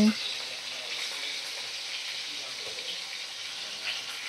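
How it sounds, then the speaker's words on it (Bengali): Continuous crackling sizzle of fish frying in hot oil, close by and steady, with faint scattered pops throughout. "মাছগুলোকে আমি গরম তেলের মধ্যে ছেড়ে দেব"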